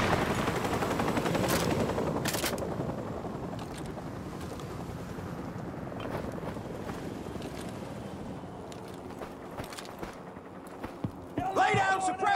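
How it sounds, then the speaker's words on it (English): Gunfire in Call of Duty Modern Warfare Remastered: sustained automatic bursts and single shots over a dense rumbling battle backdrop, with voices shouting amid the fighting. "Suppressing fire!"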